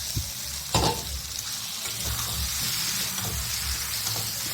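Fried jackfruit pieces tipped into hot oily masala in a pan, giving a steady close sizzle with scraping stir strokes and a brief louder clatter as they go in.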